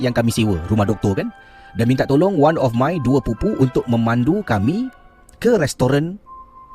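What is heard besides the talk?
No everyday noise stands out behind the speech.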